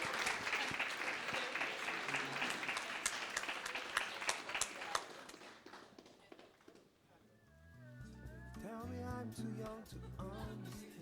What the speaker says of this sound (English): You can give them another applause, please, please.